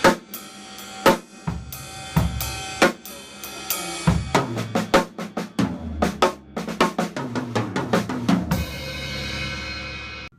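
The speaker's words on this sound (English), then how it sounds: "Instead of my last hit in the 4/4 measure being on the snare, I do it on the bass." Acoustic drum kit beat in odd time, mixing 4/4 measures with a break, with the last hit landing on the bass drum instead of the snare; busy, close and loud with cymbal crashes and kicks, no talking.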